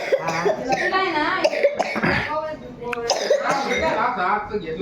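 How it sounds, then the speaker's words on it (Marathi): Someone coughs a few times, close and harsh, mixed in with ongoing conversation that includes a voice. "काय आलं? खोकला येतो काय तुला?"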